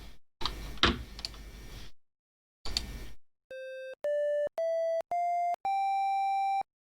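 A short burst of noisy clatter, then a series of five steady synthesized square-wave tones stepping upward in pitch, each held briefly with gaps between, the last one longest.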